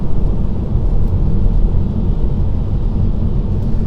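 Steady rain drums on a Tesla car while it drives on city streets, heard from inside the cabin as a constant dense low roar with no pauses and no voices.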